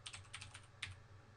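Quick bursts of faint, close keystrokes on a computer keyboard while writing code, a few clustered taps followed by a pause and another short cluster.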